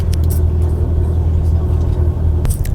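Coach bus rolling along a road in Turkey, its engine a steady low rumble with continuous road noise filling the cabin from start to finish, a few brief rattles on top and no talk.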